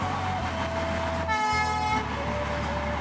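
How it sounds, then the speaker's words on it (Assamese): A train rolls past close by, its steady rumble joined by a sustained horn blast midway, loud and unaccompanied by any voices. "আৰু ইফালৰ পৰা মানে ট্ৰেইন এখন আহিলে।"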